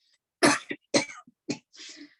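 Three harsh, close coughs in quick succession during a yoga breathing exercise, each a short explosive burst, followed by a softer throat-clearing rasp.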